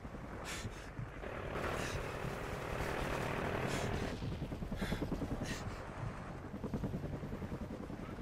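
A friendly helicopter arrives in the video game Call of Duty: Ghosts, its rotor chopping as a steady, moderately loud drone that swells and lingers amid distant game sounds, with no talk.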